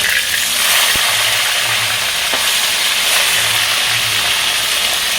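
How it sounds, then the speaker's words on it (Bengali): Fish frying in hot oil in a wok, turned over partway through; a steady, close sizzling hiss with soft crackle runs throughout, no voices. "এই যে মাছটা উল্টে দেবো"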